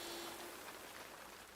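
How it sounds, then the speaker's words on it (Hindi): Cold rain falling steadily outdoors near a bus stop, a soft continuous hiss that stays even and fairly faint throughout, with no voices over it. "बारिश"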